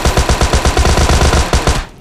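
Automatic gunfire in the mobile battle royale game PUBG Mobile Lite, a loud, rapid burst of shots at a steady rhythm, close and dense, cutting off abruptly at the end.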